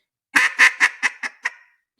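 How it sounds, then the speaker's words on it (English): A duck call is blown in a descending hen cadence: six rapid quacks, close and alone, each shorter and quieter than the last. "So you are doing a cadence of what I would call middle hens."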